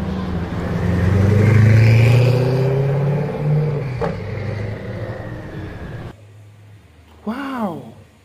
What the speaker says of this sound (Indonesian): ada mobil balap teman-teman